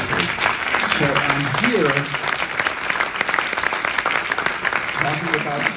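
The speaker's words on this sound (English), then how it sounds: "she would have loved that round of applause" Applause from a large audience at a film discussion event rolls on steadily and loudly for several seconds, while a voice speaks over it.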